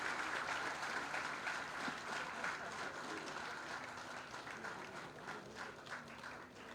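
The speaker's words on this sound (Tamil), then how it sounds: "அனைவரும் கரவொலிகளை எழுப்பி பாராட்டு தெரிவிக்கலாம்." An indoor audience gives sustained, even applause at a Tamil Nadu government award ceremony, the steady clapping of a large crowd continuing throughout.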